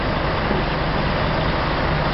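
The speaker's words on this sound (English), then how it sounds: "it's another lorry being filled up." Heavy lorry engine idling steadily while being filled during night road resurfacing in Finchingfield, Essex: a continuous, loud, broadband rumble without pauses.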